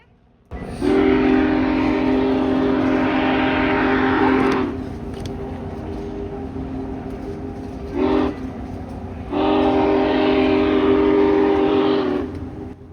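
A steam locomotive whistle blows in two long, loud, steady blasts with a brief lower toot between them, close by and unaccompanied.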